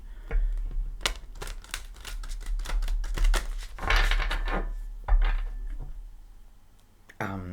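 Tarot cards shuffled repeatedly by hand, a rapid run of crisp riffling snaps with brief pauses, close and clear.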